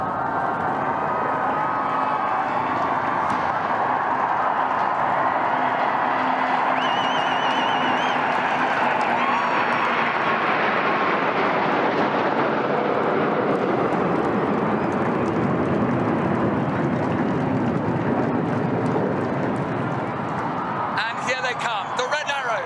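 Fifteen Eurofighter Typhoon jets thunder overhead in a Platinum Jubilee flypast, a loud sustained roar that swells and slowly fades, with crowd noise and a commentator talking over it.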